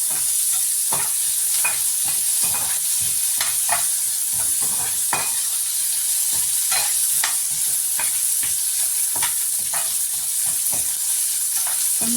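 Tomato, curry leaves, tamarind and dried red chillies sauté in a pan for paruppu thuvaiyal, giving a steady, close sizzle broken by frequent scraping stirs throughout, with no voices.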